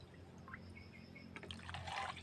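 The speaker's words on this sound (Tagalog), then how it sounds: "dito natin isalin ang tubig na pinagbabara ng dahon ng Madrid cacao na ginawa nating organic pesticide" Water from soaked madre cacao leaves, an organic pesticide, being poured out, starting as a faint trickle and swelling into a louder splashing pour near the end over a low background hum.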